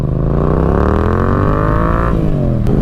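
A 2024 Yamaha MT-07 motorcycle engine runs loud and close on a North Carolina country road, holding a steady drone as the pitch glides slowly upward, then a quick throttle change near the end.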